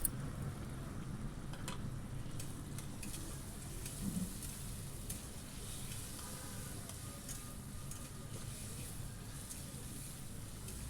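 Chopped onion and small red tomatoes fry in a pan for a chicken liver masala, giving a steady, soft sizzle with occasional stirring taps, fairly quiet and close.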